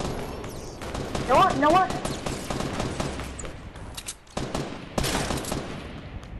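Bursts of rapid gunfire in Fortnite crackle in quick volleys amid the chaos of a match, moderately loud, with a player talking over and between the shots.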